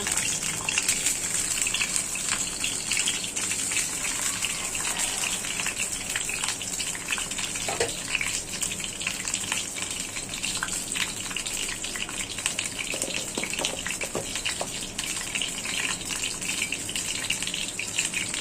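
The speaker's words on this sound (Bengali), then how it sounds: "ডিমটি ভেজে নেই" An egg frying in a pan gives a steady, fairly loud hiss and crackle that runs without a break, with no voices over it.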